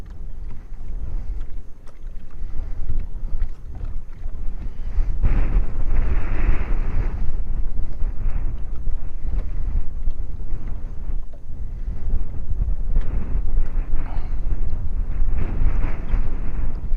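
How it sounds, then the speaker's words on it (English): Wind gusting across open water during a fishing outing, a steady low roar that swells louder around the middle and stays strong, buffeting close to the microphone with no talking. "I feel like the wind's laying down just a little bit right now."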